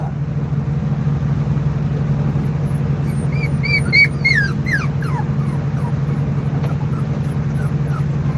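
A small female dog whines in a run of high, rising and falling whimpers and yips, fairly close, over a steady low engine-like hum throughout.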